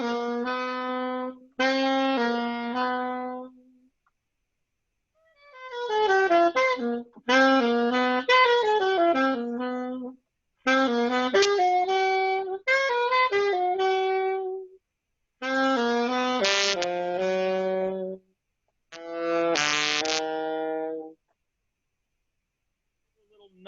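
Bebop enclosure phrases are played on a melodic instrument as short runs of clean, tonal notes in several separate bursts with silent gaps between them. The notes circle around target pitches, and no one talks during the phrases.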